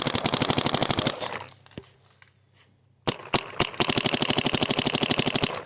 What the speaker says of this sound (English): Got my new Empire Vanquish. Gonna shoot it for you. So I got it on ramping.